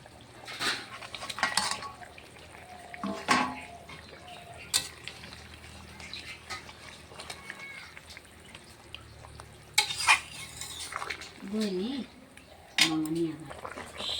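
Fried fish going into a simmering potato and cauliflower curry, with a faint bubbling sizzle, scattered clinks of a metal spoon against the pan and stirring scrapes in short bursts, under occasional quiet talk.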